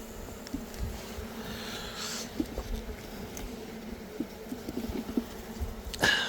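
Honeybees buzzing around an open beehive, a close, continuous droning hum with individual bees flitting past the listener, moderately loud, with light handling noises and a sharper burst near the end.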